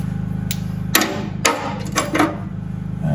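A hammer taps a nut on an M2 Cletrac crawler tractor in a workshop: a few sharp metallic strikes spaced unevenly over a steady low machine hum.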